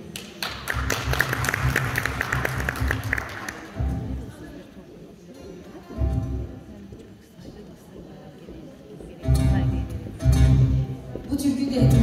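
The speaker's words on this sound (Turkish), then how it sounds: "Alkış" Applause at an Alevi cem gathering, a dense burst of clapping at the start that fades after a few seconds, with thumps and talk between, then another round of clapping toward the end.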